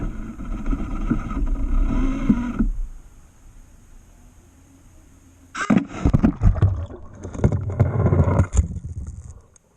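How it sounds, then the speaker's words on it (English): An underwater camera boat prototype motors across the water with a rough, steady drone. The engine noise drops away to near quiet for a few seconds, then returns louder, with choppy splashing and knocking over it. "I was able to pilot the boat to the deepest location so far."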